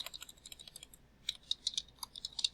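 Quiet, irregular bursts of keystrokes on a computer keyboard as a LinkedIn post is typed, close by and alone, with soft clicky taps in quick clusters.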